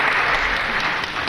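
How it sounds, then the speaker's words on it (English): Audience at a 1969 outdoor concert at the Mississippi River Festival claps steadily, a dense, even wash of many hands with no gaps. "Don't need to applaud for that."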